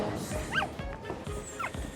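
A dog yelps and whimpers a few times amid a busy, noisy scene with thuds and background clatter.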